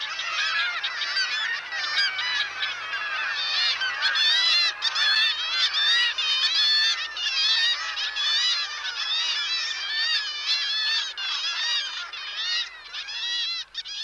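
Trumpeter swans gathered in large numbers at the mouth of the Copper River in summer, a constant overlapping chorus of nasal honks from many birds at once, loud and dense throughout with no voices.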